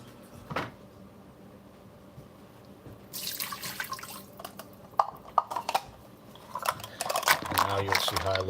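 Water from a cup is poured into a pan of St. Louis-style ribs, a run of splashing and trickling that builds in the second half, with kitchen clatter and a faint voice in the background.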